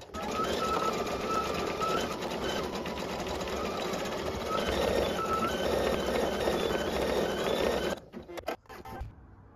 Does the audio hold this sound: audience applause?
no